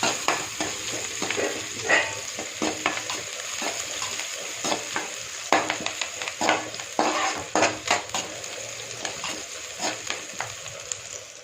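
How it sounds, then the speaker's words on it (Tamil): Curry leaves and kalpasi tempering in hot oil for a chow chow masala kuzhambu, a steady close sizzle broken by frequent sharp scrapes and stirring knocks from a spoon, with no one speaking. "கருவேப்பிலை, கல்பாசி, அப்படியே தாளித்து இந்த பருப்பில் ஊற்றிட வேண்டியதான்"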